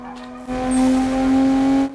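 A Toyota Supra MKIV driving through a highway tunnel gives a sharp hissing tss lasting about a second and a half over a steady, high engine whine.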